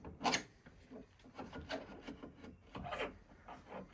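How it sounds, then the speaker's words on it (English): Finished inverted fork leg of a Harley-Davidson Street Glide CVO being slid into place with Wilbers suspension parts, a series of close scraping, rubbing rasps in uneven strokes, fairly faint with no talk. "So now we insert the"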